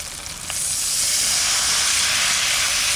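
Water hits frying spice paste in a pan for fish curry, a sudden loud sizzling hiss that swells after a moment and then holds steady and close.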